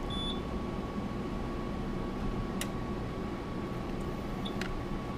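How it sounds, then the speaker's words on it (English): Two or three short, high-pitched edge-detection beeps from an OGP QL20 20-inch optical comparator sound at uneven intervals over a steady machine hum and a faint constant tone. "As you can hear it beep as you cross the edge"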